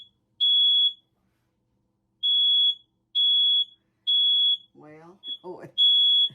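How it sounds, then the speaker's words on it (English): A kitchen smoke alarm sounds in short, loud, shrill beeps, five bursts with irregular gaps, and a person speaks briefly between the last few. "I think the fire alarm's going off."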